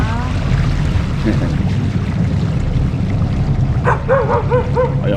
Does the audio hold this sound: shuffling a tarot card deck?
no